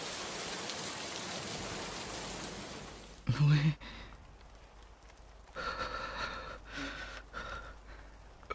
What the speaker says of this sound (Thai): ฝนนี่ทำให้อากาศเย็นลงเรื่อยๆเลย